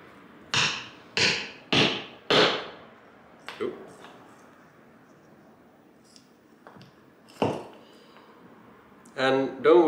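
An old bamboo tea whisk is split with a bamboo splitter: four loud, sharp cracks come in quick succession, followed by a few sparser, quieter taps and a final burst of clattering.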